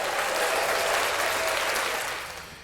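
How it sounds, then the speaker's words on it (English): Sustained round of applause from a podcast studio audience honoring Marla Gibbs and Quinta Brunson, dense clapping and crowd noise held steady before tapering off toward the end. "Let's give them a round of applause."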